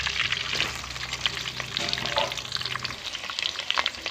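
Cumin, mustard seeds, fenugreek and garlic frying in oil for a greens curry, a dense steady sizzle with crackling spatters and a few stirring scrapes, close and continuous with no voices.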